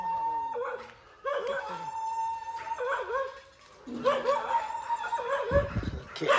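A dog howls in long, wavering cries broken by whimpers and a few barks. The sound is fairly faint and repeats several times.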